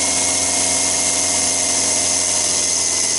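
A SsangYong Kyron engine runs at high idle during EGR cleaning with a spray cleaner, a loud steady whine and hum, constant and close with no talking.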